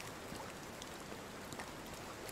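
Rain falls in the medieval village survival game Medieval Dynasty as a steady, faint, even hiss with scattered soft droplet ticks throughout.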